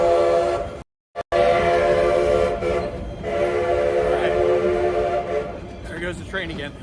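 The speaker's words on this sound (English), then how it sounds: "There goes the train again." An amusement park train passes at Camp Snoopy, a loud rumbling run with a sustained whistle-like tone and a brief dropout, close by and continuous.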